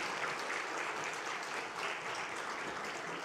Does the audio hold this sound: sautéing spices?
no